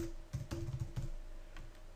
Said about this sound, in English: So I'm just going to type this quickly.